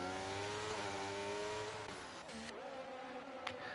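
A McLaren race car in a racing video game, driven around a Portugal circuit, gives a loud, continuous engine howl. Its pitch rises and falls as it shifts gears and brakes, with a brief tire squeal.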